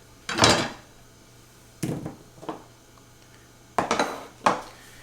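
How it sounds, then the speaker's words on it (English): Knife chopping cilantro and onions on a board: a few quick clusters of knocking chops separated by pauses, close and moderately loud, with no talk. "So I'll chop up some cilantro and some onions."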